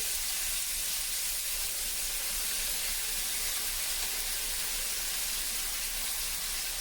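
Bangladeshi fish called Miguel frying in hot oil, giving a steady, unbroken sizzling hiss that stays even in level throughout, with no talking.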